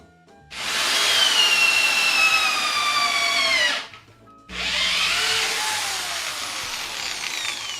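A power drill runs in a woodworking shop during work on setting a blacksmithing anvil into its stand, two long loud whining bursts with a short pause between them, close and unaccompanied by talk.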